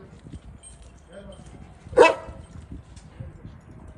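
A single sharp dog bark rings out close by during an outdoor dog-training session, standing alone over a low background of voices and movement.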